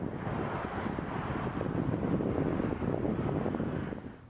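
Heavy jet airliner arriving at Toronto Pearson Airport, a broad sustained rumbling roar that builds slightly and then fades toward the end, heard from a moderate distance alongside a steady high whine.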